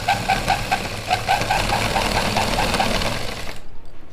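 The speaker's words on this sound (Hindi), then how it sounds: "यहाँ पे हमें बिल्कुल बारीक बारीक सिलाई लगानी है" A sewing machine runs continuously, stitching fine seams on a suit with a rapid, even mechanical whir close by before stopping abruptly.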